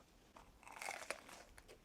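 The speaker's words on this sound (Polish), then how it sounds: "Jakie chrupnięcie." Quiet close crunching of a bite into a dinner dish, a few crisp crackling bursts clustered in the middle, faint and alone.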